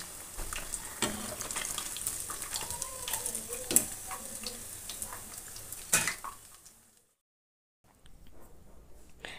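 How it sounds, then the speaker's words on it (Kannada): Fish frying in oil in a pan, a steady sizzle with occasional sharp clinks of a utensil against the pan, cutting out briefly to near silence before the sizzle resumes faintly. "ಇದನ್ನು ಈಗ ಚೆನ್ನಾಗಿ ನಾವು ಎಣ್ಣೆಯಲ್ಲೇ ರೋಸ್ಟ್ ಮಾಡ್ಕೊಬೇಕು"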